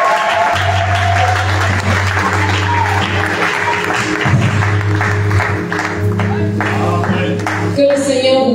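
Concert audience in Kribi, Cameroon applauding and cheering, a dense wash of clapping with scattered whoops and a sustained music tone underneath, a voice speaking over it in places.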